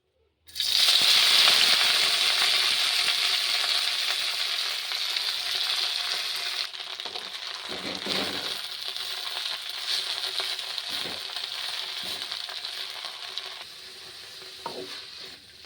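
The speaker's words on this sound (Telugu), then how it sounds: "కొంచెం ఆయిల్ వేసుకొని అది వేడయ్యాక పుదీనా, కొత్తిమీర వేసి మంచిగా వేయించుకోవాలి" Mint and coriander leaves frying in hot oil sizzle loudly and continuously from the moment they hit the pan, settling into a steady crackling hiss with occasional stirring scrapes, close up and without talk.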